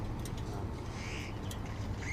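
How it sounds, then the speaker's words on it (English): Birds chirp faintly and sporadically outdoors while a shipment truck is awaited, with a few scattered high calls over a steady low rumble and hum. "We'll just kind of listen to the birds"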